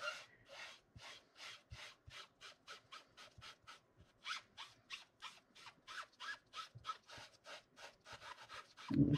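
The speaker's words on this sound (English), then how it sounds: "And this just takes off any excess. Anywhere where there's no glue, it'll rub it away." A craft piece is rubbed by hand to lift away excess glue, making a long series of quiet, rhythmic scratchy strokes, each brief and evenly spaced, alone and close.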